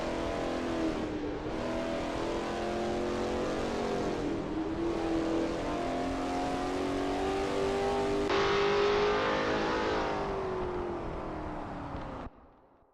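A Lola T70 MkII Spyder race car engine at Willow Springs in a racing game, loud and continuous as it revs through gears with rising and falling pitch, then cuts off abruptly at the end.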